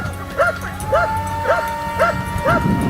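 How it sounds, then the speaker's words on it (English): Hunting dogs bark on a wild hog hunt in Florida, a steady series of five or six sharp yelping barks at regular half-second intervals, close and loud over background noise. "The hunting dogs diligently continued their work, sniffing out and locating the wild hog's hiding spots."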